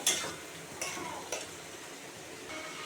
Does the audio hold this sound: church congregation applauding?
no